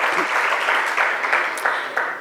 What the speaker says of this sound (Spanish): Un aplauso para ellos, para que se vayan sintiendo en familia.